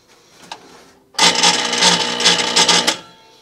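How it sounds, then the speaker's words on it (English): A miter saw powered through a battery inverter from a 12 V 100 Ah LiFePO4 battery struggles to start, giving a loud, harsh whirring burst of about two seconds after a faint click, then cutting out. "I'll have to reach over here to turn on the miter saw."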